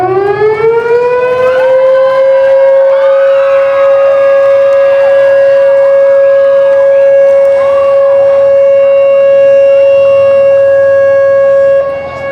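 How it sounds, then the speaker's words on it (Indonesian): A civil defense siren wails steadily for about twelve seconds, rising at the start and holding a loud, sustained tone, sounded to formally open a church youth gathering in Tual. "Ketua Panitia Jerino Tanubun, secara bersama-sama menekan tombol sirene sebagai tanda Badar ke-7 Jemaat GPM Tual tahun 2023 dibuka secara resmi."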